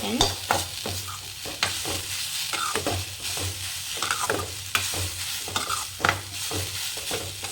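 Grated beetroot and coconut are stirred and fried in a pan as a beetroot poriyal, with a steady low sizzle under repeated scraping spoon strokes at an even rhythm, close and moderately loud, with no talk.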